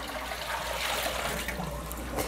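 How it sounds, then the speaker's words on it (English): Water from a dye pot is dumped into a sink, a steady, dense rush of splashing liquid that stays loud throughout. "I will dump the water into the other sink"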